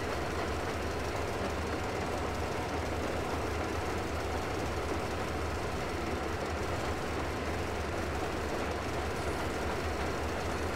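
A train rolls along in Metro Exodus, a continuous loud rumble with faint rhythmic clickety-clack and engine knocking that holds steady throughout, with no talk.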